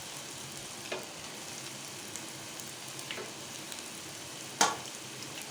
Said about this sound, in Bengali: এরকম করে আপনারা তেল দিয়ে ভাজবেন।